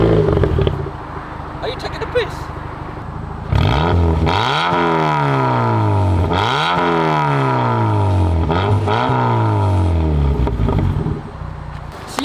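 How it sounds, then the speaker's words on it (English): Car with a Cobra exhaust revving repeatedly, each rise in pitch followed by a fall, loud and nearby after a quieter start; a voice speaks briefly over it. "That's right, it's already got a Cobra exhaust on"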